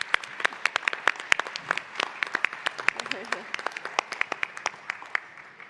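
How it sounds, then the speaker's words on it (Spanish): An audience at a national sustainability summit panel in Peru applauds the organisers and team, dense sharp clapping heard close and steady throughout, tapering slightly at the end. "me gustaría pedir un fuerte aplauso para la organización y para el equipo."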